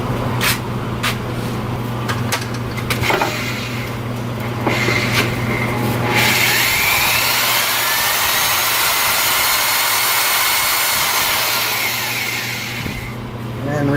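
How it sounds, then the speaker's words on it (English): A drill motor spins a GM 12 bolt ring and pinion during a re-gear and rebuild, giving a steady whirring drone with rattling bursts early on, then a smoother, broad hiss as it keeps running. "I'm going to spin this ring and pinion with a drill motor"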